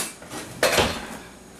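A spatula clanks against a pot on the stove while water and sugar are cooked down, giving one sharp metallic knock after a few soft shuffling touches, close and alone.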